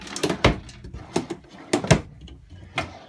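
A drawer in the kitchen of a 2022 Forest River Tracer 230 BHSLE travel trailer is pulled open, giving several close, sharp knocks and sliding rattles spaced through the moment, with no talking.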